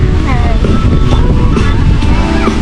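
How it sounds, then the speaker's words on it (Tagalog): Strong wind roars continuously into the microphone at a hilltop campsite in Bulacan, loud and buffeting, with faint voices barely audible beneath it. "Lakas ng hangin."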